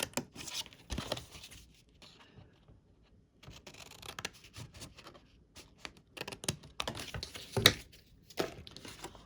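Paper is cut to take a 3-inch square off a sheet, giving faint, close, irregular snipping and crinkling bursts separated by short pauses.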